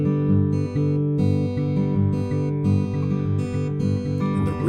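Fingerpicked acoustic guitar in Travis style plays a steady pinch pattern with the final eighth note left out, giving a bouncy, even alternating-bass rhythm, close and full with no voice.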